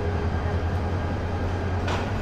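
Nazirhat local train at Chittagong Cantonment railway station, a steady low rumble of carriages running close and loud with constant hum throughout and a brief hiss near the end, no talk.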